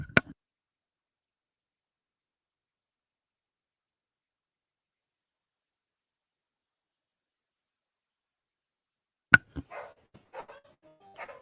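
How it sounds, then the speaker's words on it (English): Dogs barking in a short burst of a few sharp barks at the very start, then near silence, with a second cluster of barks and yips near the end, at moderate distance. "Just dogs barking."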